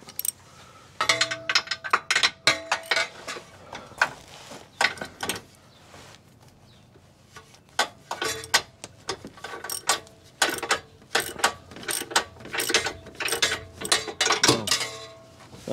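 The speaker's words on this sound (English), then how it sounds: "So now I'm going to remove these bumper bolts." A ratchet wrench loosens bumper bolts on a 2022 Jeep during a tow bar base plate install, producing close bursts of rapid clicking with short pauses between runs.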